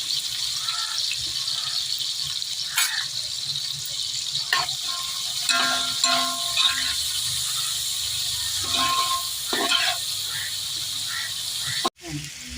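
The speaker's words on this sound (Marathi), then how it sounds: "सुक्या चिकनची फोडणी करून घेते" Dry chicken tempering sizzling and frying in hot oil in a home kitchen, a continuous hiss with stirring scrapes and clinks, while people talk intermittently over it.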